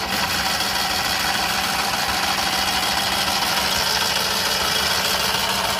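A Maruti Alto engine with a timing belt fault runs loud and close in a steady, rough, droning idle with a gritty mechanical rattle and no break in the sound.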